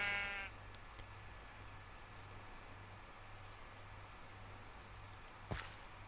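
A Minecraft sheep gives one short bleat right at the start. A faint hiss and low hum follow, with a small click near the end.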